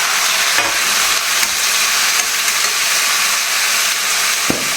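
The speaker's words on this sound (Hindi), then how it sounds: "लग जाएगा तड़का फटाफट से, आज दोपहर तक ही बन जाएगी सब्जी" Potato and French bean curry sizzles and fries steadily in a hot pan during tempering, a loud continuous crackling hiss with faint stirring scrapes, no talking.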